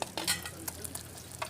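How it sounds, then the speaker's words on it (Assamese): Rohu fish fries in a pan with a light sizzle, broken by a few quick scraping and stirring clicks over a short moment. "প্ৰথমে মাছখিনি ফ্ৰাই কৰিলো"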